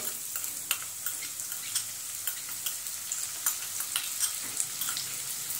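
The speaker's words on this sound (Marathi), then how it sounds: "जिरं फुललं की त्यामध्ये आपण कांदा टाकून घेऊ।" Chopped onion sizzles with cumin seeds in a pan of hot oil, a steady frying hiss broken by repeated soft stirring clicks, close and alone with no talk.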